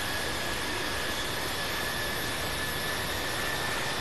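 Boeing 777-300ER jet engines at takeoff in the Infinite Flight game, a loud, constant broadband roar with a faint steady whine, unbroken throughout.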